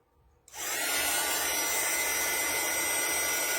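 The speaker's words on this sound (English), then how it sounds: "And then take your heat gun" A heat gun blows hot air onto candle wax wrapped in wax paper, switching on after a brief quiet moment and then holding a loud, steady, close airy roar with no talking.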